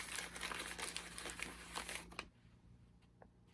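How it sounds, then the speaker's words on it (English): Plastic bag ripped open by hand, a close burst of crinkling and tearing for about two seconds, then near quiet with a faint rustle. "ripping open the bag."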